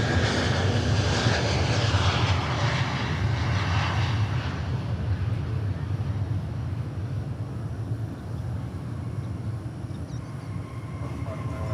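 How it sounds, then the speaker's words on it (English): A Japan Airlines airliner taxiing out at DFW Airport gives a loud, steady jet engine roar with broad rumble, strongest at the start and easing slightly while staying continuous throughout. "There's Japan Airlines getting ready to taxi out."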